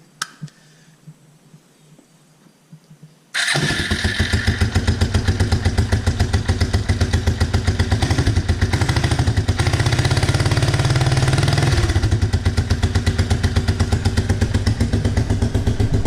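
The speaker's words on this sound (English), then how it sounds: "Alright, here goes the first hit of the starter." A reassembled ATV engine cranks on the starter after a quiet few seconds, catches at once and settles into a loud, steady, close idle that runs to the end.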